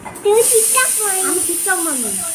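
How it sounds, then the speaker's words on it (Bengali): A pressure cooker hisses steadily on the stove while biryani cooks, a high, continuous steam whistle running under a woman's nearby speech. "পিছনে ব্যাকগ্রাউন্ড মিউজিক হচ্ছে প্রেশার কুকারে সেটি"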